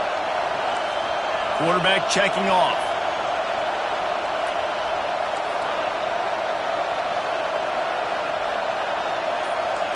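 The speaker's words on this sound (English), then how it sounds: "Decibels rising as the crowd gets behind this defense on 3rd down" A football stadium crowd at an Alabama game roars steadily through a third-down play, a loud, dense wall of noise that stays constant throughout, with a commentator's voice briefly heard over it.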